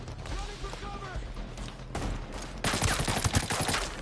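A heavy gun fires in the video game Ghost Recon Breakpoint as a loud, dense burst of rapid shots in the last stretch, after a stretch of speech.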